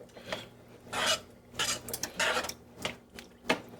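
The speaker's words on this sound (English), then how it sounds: "give it a little bit of a stir" Milk being stirred in a pan with a utensil, giving repeated scraping, rubbing strokes against the pan in uneven bursts, close and moderately loud, with no talking.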